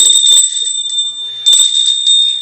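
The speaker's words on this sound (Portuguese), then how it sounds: "Bateu meta, ele toca o sininho." A small hand bell rings in an office to mark a sales target being reached, sounding two bright jingling bursts that leave a high ring hanging between them.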